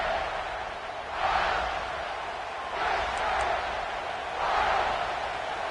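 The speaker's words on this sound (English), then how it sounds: "This crowd trying to do its part to get inside the kicker's head." A stadium crowd roars in a college football video game, with broad swells of cheering rising and falling in three waves before a field goal try.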